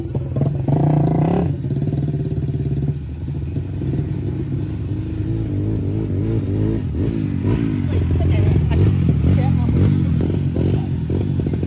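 A racing motorcycle engine at a beach race day revs loudly and continuously, its pitch rising and falling over a rough, close roar with clattering, while people talk over it.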